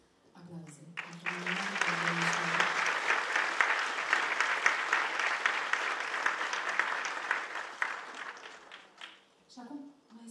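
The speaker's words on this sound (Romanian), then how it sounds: "Aplauze!" Applause rises from an audience at a Christmas concert after a harmonica group performs, swelling into steady, full clapping that lasts several seconds before fading, with a voice briefly heard at the start and end.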